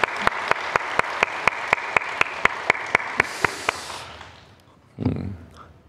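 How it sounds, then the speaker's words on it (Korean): A church congregation gives a burst of applause during a Sunday worship service, steady rhythmic clapping that fades out after about four seconds, followed by a brief low thump. "오늘을 주신 하나님께 영광의 박수 올려드리십시다."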